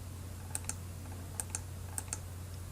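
Mouse clicks on a computer come in three quick paired bursts, sharp and close, spaced evenly over a low steady hum with no talking.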